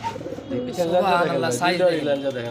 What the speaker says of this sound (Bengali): এখানে দেখতেছি একজোড়া লাহরি কবুতর আর পিছেরটা হচ্ছে মাদি আর এটা হচ্ছে নর